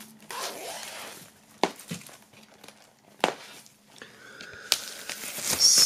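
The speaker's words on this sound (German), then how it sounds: "einmal hier einschneiden und dann können wir hier nochmal aufschneiden und dann die Folie wunderbar abziehen" A blade cuts into the plastic shrink wrap on a vinyl record and the film is peeled off, making close crinkling and sharp tearing rasps in short bursts, with no talking.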